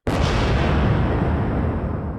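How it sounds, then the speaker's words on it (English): A terrific explosion hits suddenly with a sharp onset, then sustains as a loud, broad roaring rumble that fades only slightly over two seconds. "A terrific explosion."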